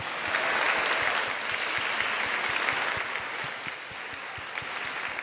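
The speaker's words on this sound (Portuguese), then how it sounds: "peço uma salva de palmas." A large audience claps steadily at a solemn ceremony honouring the King of Nigeria, a dense wash of many hands with crisp individual claps standing out, holding loud for several seconds before easing slightly.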